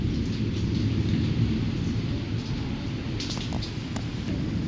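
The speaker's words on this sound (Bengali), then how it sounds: "বাইরে দেখো বৃষ্টি হচ্ছে আর ভীষণ সুন্দর হাওয়া দিচ্ছে।" Rain falling outside with wind, a steady soft hiss and low rushing noise heard from indoors at moderate distance, fairly quiet and even throughout.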